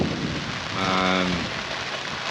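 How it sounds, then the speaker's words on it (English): Steady hurricane rain hisses down under gusty wind noise at a marina, with a brief harmonic drone rising in the middle. "Rain's still not too bad."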